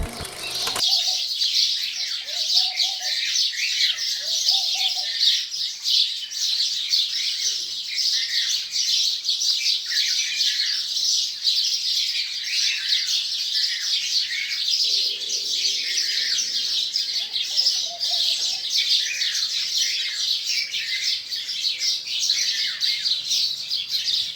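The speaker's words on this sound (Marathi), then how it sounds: "चिमण्यांचा आज आवाज रोजच्यापेक्षा वाढलेलाच आहे" Many small birds chirp and twitter busily nearby, a constant bright chatter of sparrow calls with occasional wing flutters and no voices.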